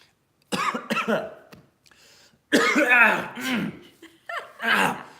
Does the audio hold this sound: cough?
yes